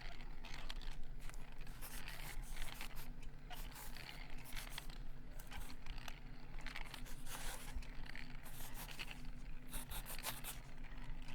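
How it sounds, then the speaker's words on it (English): Pencil sketching a hand on paper, a steady run of soft scratching and scraping strokes close up and continuous throughout, with no talking. "I'm going to make a quick sketch of one of your hands, just for reference"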